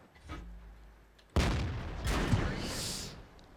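An enemy tank shell slamming into the player's Easy 8 or T29 tank in World of Tanks, one heavy close impact boom with a rumbling, crackling aftermath, after a brief faint voice.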